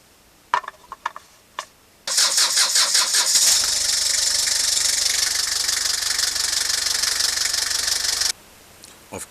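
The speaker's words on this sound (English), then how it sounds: "I've cranked over the motor." Kia Pregio with a J2 diesel engine: a few faint clicks, then the motor cranks over loudly with a rapid rhythmic churn for about six seconds before stopping, close up and with no voices.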